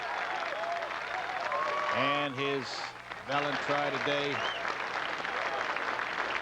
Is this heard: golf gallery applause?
yes